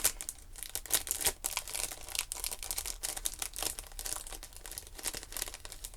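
A small plastic bag holding seam binding is opened and handled, giving close, busy crinkling and crackling with sharp rustles and crisp bursts throughout, no voices.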